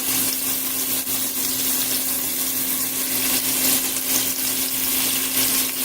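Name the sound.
cheeseburger patty being squished down and frying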